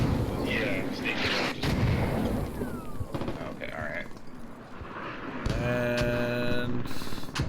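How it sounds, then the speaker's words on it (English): Mortar rounds landing during a Squad tactical shooter match, with heavy booms and rumbling impacts, while a commentator speaks over them and other sounds follow. "As here come all the mortars"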